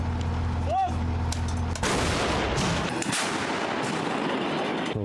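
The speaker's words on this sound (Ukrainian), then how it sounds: "По готовності вогонь" Artillery fire from a Turkish-made field gun on a frontline position near Toretsk, a loud heavy blast erupting mid-clip with a long rumbling decay, preceded by a brief rising whistle-like tone.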